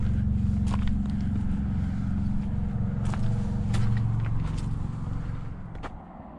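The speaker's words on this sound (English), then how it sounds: "it's close to the parkway, so you do hear the cars passing by" Cars passing on the Blue Ridge Parkway below a mountain trail overlook in the Balsams, a continuous low traffic rumble that swells and fades as vehicles go by, with nearby footsteps and light crunching on top.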